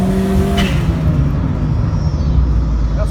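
A turbocharged car fitted with a TD05 turbo accelerates from a roll at about 20 mph, its engine a steady loud rumble with a rising tone throughout, heard from inside.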